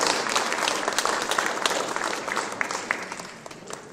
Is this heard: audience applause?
yes